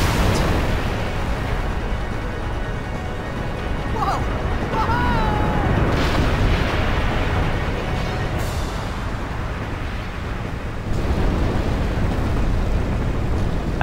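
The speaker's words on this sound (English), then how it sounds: "Explosion." Rumbling explosion effects in the Final Fantasy X HD Remaster video game, a loud continuous wash of booms and bursts with sharp impacts scattered through, under game sounds and a talking player.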